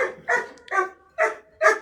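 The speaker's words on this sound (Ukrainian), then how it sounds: "Собака кота побачила." A dog barks at a cat in four sharp, loud barks close by, spaced roughly half a second apart, with no talking.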